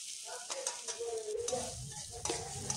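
Tomato frying in a pan with panch phoron and green chilies, stirred with a utensil that scrapes and taps in short strokes over a soft, steady sizzle, close and fairly quiet.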